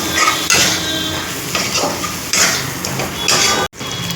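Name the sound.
stirring potatoes and spices together in a curry pan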